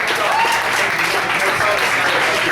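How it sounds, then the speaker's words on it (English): A comedy night crowd at Cafe Diem in Richmond, Virginia applauds a comic as he takes the stage; loud, continuous clapping fills the whole stretch. "Give a round of applause for Mr."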